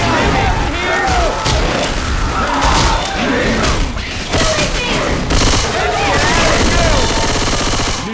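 Dense, rapid gunfire from the Left 4 Dead 2 video game rattles almost continuously with overlapping bursts and booms. Voices talk underneath.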